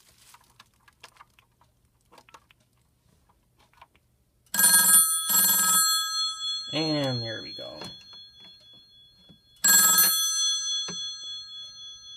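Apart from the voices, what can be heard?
telephone ringing on Panasonic TA824 hybrid PBX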